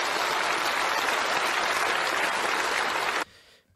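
Large hall of hundreds of seated delegates clapping in unison, a dense steady wall of applause that cuts off abruptly near the end, leaving faint room noise.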